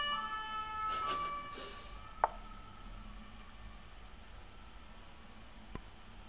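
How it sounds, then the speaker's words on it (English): An emergency vehicle siren wails outside at a distance, faint and steady for a few seconds before fading into background hiss, with a single sharp click partway through. "If there is an ambulance or whatever car with siren going during Titled Tuesday"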